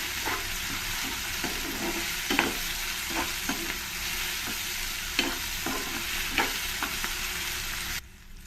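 Tomato in a tempering for bisibelebath fries in a pan, a steady close sizzle broken by repeated rhythmic spatula scrapes and taps, fading abruptly at the end.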